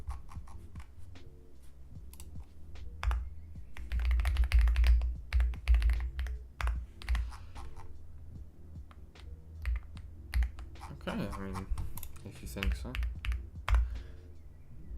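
Rapid clacking keystrokes on a computer keyboard while programming in C++, continuous dense bursts of typing close to the microphone, with a person speaking briefly over them.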